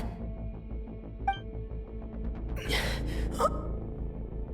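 A video game character in Genshin Impact gasps sharply for breath, one quick intake standing out against a steady music score, with breathy strained exhales following later.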